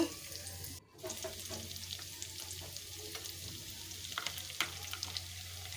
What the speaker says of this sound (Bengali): পেঁয়াজ কুচি আর কাঁচামরিচ কুচি একসঙ্গে দিয়ে কিছুক্ষণ নেড়ে চেড়ে মশলাগুলো দিয়ে দিব